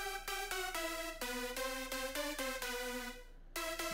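A bright supersaw synthesizer lead plays a quick melody of short, evenly spaced notes stepping up and down, clear and alone, with a brief gap near the end.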